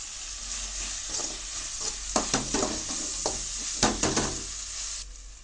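Tomato chutney mixture sautés in a pan with a continuous sizzling hiss, while a spatula stirs and knocks against the pan in irregular close strokes, no voices present.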